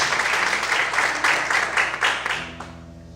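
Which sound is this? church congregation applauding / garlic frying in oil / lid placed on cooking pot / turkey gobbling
church congregation applauding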